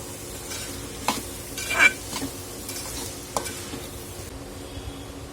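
Spiny gourd stir-fry with crushed peanuts stirred in a pan, a soft steady sizzle with a few sharper scrapes and clinks of the spatula spaced through, close and moderately quiet, no talking.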